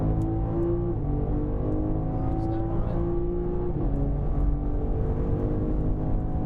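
A BMW at full throttle on a race track, its engine a loud, steady drone that climbs and shifts pitch with a few sudden steps, heard from close and continuous throughout.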